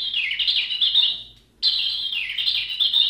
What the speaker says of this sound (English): And they have real bird sound.